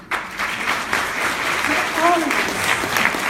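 Guests at an inspirational luncheon break into applause, a steady spread of many hands clapping at moderate loudness, with voices heard faintly under it.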